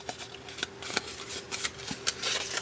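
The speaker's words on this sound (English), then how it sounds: "take this piece here and just fold it in half" A paper piece being folded in half for a Christmas craft gives soft crinkling and light papery rustles, quiet and close, with a few sharper creases.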